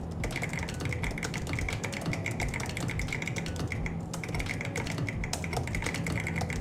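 Rapid, continuous clacking of a mechanical keyboard being typed on, crisp and close, with an occasional heavier key thrown in.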